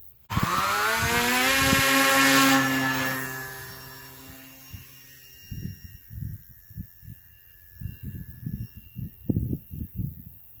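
A twin-engine RC model airplane, the Combat Battle-Axe Twin, revs its engines up in a loud, high whine that rises and then fades out. Short thumps and handling noises follow, and no voices are heard.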